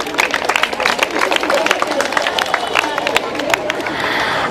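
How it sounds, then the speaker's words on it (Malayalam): Schoolchildren clapping in a classroom after a correct quiz answer, a loose burst of many hands with chatter and voices mixed in, fairly loud and close, continuing throughout. "ക്ലാപ്പ് ചെയ്യ്."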